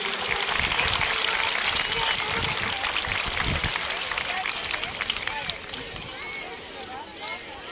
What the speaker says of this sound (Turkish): Tekrar güzel bir alkış alabilir miyiz?